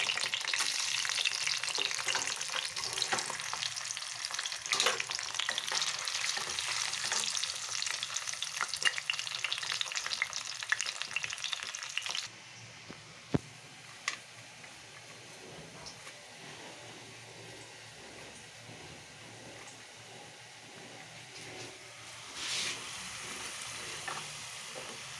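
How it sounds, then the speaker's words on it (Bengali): Pieces of elephant foot yam frying in hot oil give a steady crackling sizzle that drops suddenly to a quieter bubbling about halfway through, with occasional stirring clinks and a brief rise near the end. "এবার আমি ওলের রান্না করব বলে ওলগুলোকে ভালো করে ভেজে নেব এই তেলটাতে।"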